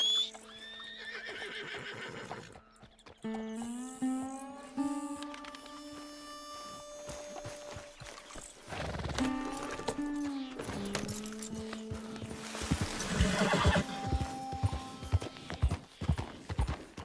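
A horse neighs and whinnies repeatedly in the video game Red Dead Redemption, its hooves clip-clopping steadily throughout, close and fairly loud over a low hum.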